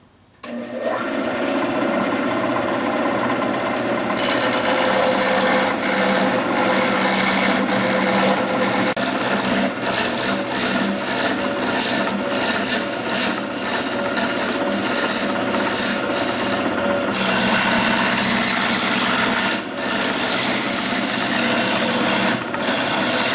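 A Boral piece with square ends spins on a wood lathe as a cutting tool turns down its middle, a loud, continuous rasping scrape with rhythmic chatter that runs for over twenty seconds without speech.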